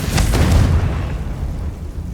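A Confringo fire spell explodes in Hogwarts Legacy gameplay, one loud, close, booming blast with a sharp crackle at the start that rumbles and fades over about two seconds.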